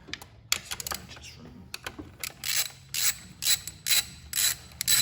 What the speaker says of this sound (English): remove the 10 mil bolts that hold the coil packs